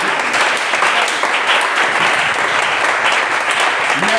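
A church congregation applauds loudly and steadily, a dense wash of many hands clapping close by that continues without a break.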